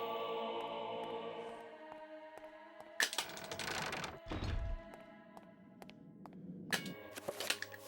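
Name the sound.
gunshots from the video game Eternal Darkness: Sanity's Requiem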